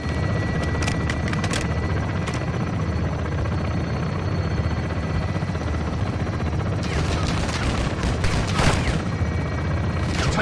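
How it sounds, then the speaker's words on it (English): Belt-fed machine gun fire in Modern Warfare 2, distant rattling bursts beneath a steady loud helicopter drone, with a few sharper volleys standing out near the middle and end. "Taking belt-fed fire from beneath the tower"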